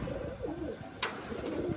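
Male flying pigeons being readied for a pigeon-racing tournament coo softly in a loft, a couple of low warbling calls standing out against steady background noise.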